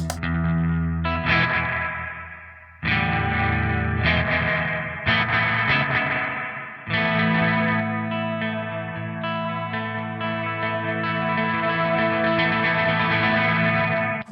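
Electric guitar chords ring out through a heavy, washy reverb from an Earthquaker Devices Zoar pedal, played in several strummed phrases that sustain and blur together.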